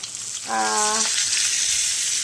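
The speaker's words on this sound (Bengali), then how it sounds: "এখানে 2 পিস কাতলা মাছ ঘি আর সাদা তেল দিয়ে ভাজতে দিয়ে দিয়েছি, নুন মাখিয়ে" Two salted pieces of katla fish frying gently in ghee and white oil give a steady, close hiss of sizzling throughout, with a brief tonal hum near the start.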